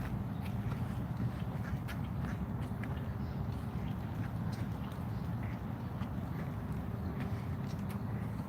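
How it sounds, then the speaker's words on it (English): Ducks lingering in the water quack faintly in a few scattered calls, nearly buried under a constant low rumble of outdoor background noise, with no talking. "Come on, ducks."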